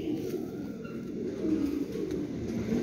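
A pigeon coos softly, low rolling calls under a steady background hum, in a place where pigeons are kept and shown.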